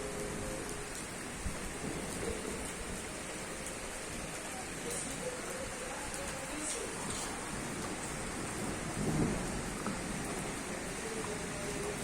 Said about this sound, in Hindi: देखिए बारिश कैसे हो रही है